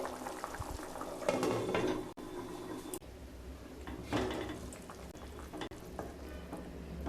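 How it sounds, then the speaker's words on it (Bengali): Katla fish curry with potatoes simmering in a pot on low heat, giving a steady soft bubbling and faint sizzle with an occasional clink of a utensil, close and fairly quiet throughout. "এবার একদম লো স্টিমে 5 থেকে 7 মিনিট রান্না করে নেব, যতক্ষণ পর্যন্ত আলু সেদ্ধ না হচ্ছে।"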